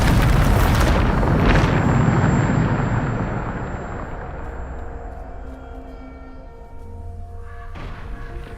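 A Bombarda spell blast in Hogwarts Legacy: one big booming explosion up front, then a long rumbling decay that fades over several seconds, with no voices.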